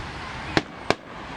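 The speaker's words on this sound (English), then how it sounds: "This is a Gucci fireworks right here." Two sharp fireworks bursts crack out at a Fourth of July show at a ballpark, about a third of a second apart, loud and distant-sounding over a steady crowd murmur.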